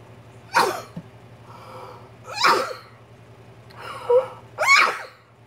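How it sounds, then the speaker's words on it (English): A person sneezes several times in a row in a quiet room. The sneezes are close and sharp and come at a steady pace over a low background hum. "I have to sneeze."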